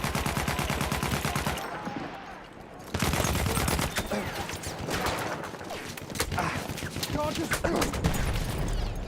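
Rapid submachine-gun fire in Battlefield 1 crackles in dense bursts, briefly dropping away before resuming with scattered shots and overlapping volleys, with a voice talking over the fighting.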